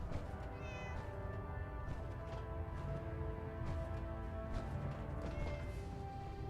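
A cat meows repeatedly in Fallout 4's Far Harbor, plaintive mewing calls rising over a dense, constant game soundscape of low rumbling and tonal background music.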